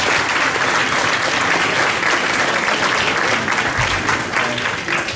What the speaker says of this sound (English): I want everybody to give him a round of applause